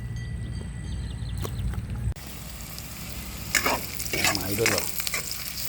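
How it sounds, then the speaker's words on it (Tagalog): Garlic, ginger and onion sautéing in a pan with steady sizzling and stirring scrapes, a louder burst of frying midway, and a brief voice at the start. "Gigisa muna tayo ng bawang, luya, sibuyas."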